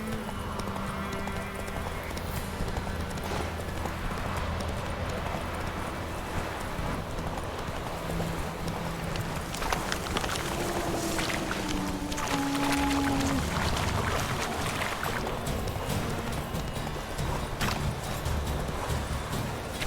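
Hooves of a galloping horse in The Witcher 3 video game pound in a rapid clip-clop rhythm throughout, loud and close, with a brief whinny and game music and ambience underneath.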